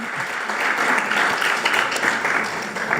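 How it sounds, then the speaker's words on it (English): Steady crowd applause for guest speakers at a spiritual retreat, many hands clapping in a dense, continuous wash at fairly close range, holding evenly throughout. "Another big round of applause for both of them"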